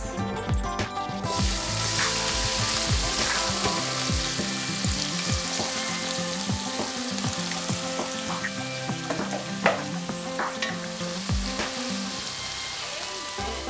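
A large batch of onions fries in a pan, salted as they soften toward translucency, giving a steady, close sizzle with occasional sharp crackles and no talking.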